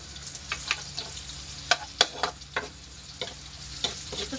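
Onion fries in a pan in a home kitchen while liver is being prepared, giving a soft crackling sizzle with scattered clicks and scrapes of stirring.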